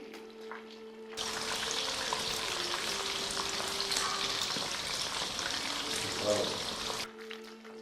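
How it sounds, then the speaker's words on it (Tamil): Chicken pieces fry in oil in a pan over a medium flame for a Chicken 65 recipe, a loud, dense sizzle that starts abruptly and cuts off after about six seconds, with faint stirring near the end. "ஸோ மீடியம் ஃப்ளேமில் வச்சு சிக்கனை வறுத்திடுங்க"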